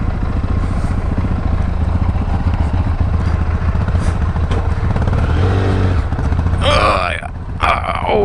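A Benelli TRK502X motorcycle engine runs steadily and loudly while the bike turns around on an offroad ride, with a constant rumbling drone and a brief higher squeal near the end.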